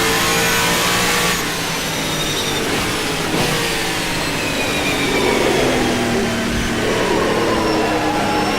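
A NASCAR stock car in the rFactor 2 racing sim roars at high revs, a loud, continuous engine note that dips briefly at gear changes and climbs again, with no talking over it.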